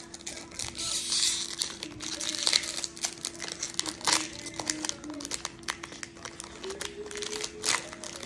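Foil wrapper of a Pokémon Paldean Fates card pack crinkling and crackling steadily as it is torn open, close and fairly quiet, with irregular sharp rustles throughout and no speech.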